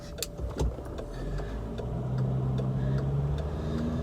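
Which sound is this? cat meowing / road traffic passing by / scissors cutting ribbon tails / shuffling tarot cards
road traffic passing by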